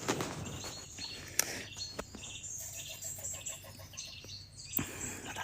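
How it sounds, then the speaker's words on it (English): A bird gives a short run of rapid, repeated chirps partway through, fairly faint amid quiet indoor sounds, with a few sharp knocks and clicks around it. "interesting bird sound"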